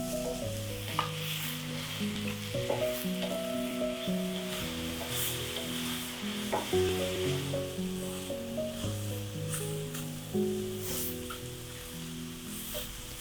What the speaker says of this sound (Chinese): 锅子用大火预热，然后用高温呢把蘑菇的2面给煎香。